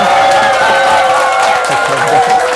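A crowd at a Korean trading lecture claps and cheers to welcome a guest speaker, a loud, continuous wash of hands and voices with faint talk mixed in.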